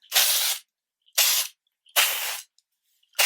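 Mark Hill Glass Finish Shine Spray misted onto hair in four short, close hissing bursts from an aerosol can, each about half a second long with brief silent gaps between them.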